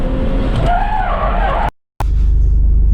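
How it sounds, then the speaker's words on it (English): Adam LZ's drift car slides with loud tire squeal and a roaring engine, close and harsh, then cuts to silence for a moment before the engine noise picks up again. "So Adam's taking my car for a drive now."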